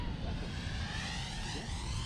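A DJI drone, likely a Mavic, whirs steadily in flight with high-RPM propellers, a continuous tonal buzz with rising harmonics heard at moderate distance, with no talk over it.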